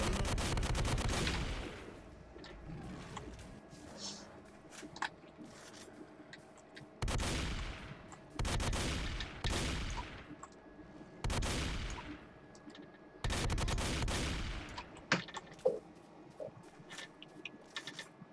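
Gunfire in a first-person shooter game, the S.T.A.L.K.E.R. mod Narodnaya Solyanka: several loud bursts of rapid automatic fire separated by short pauses, close and sharp, with no talking.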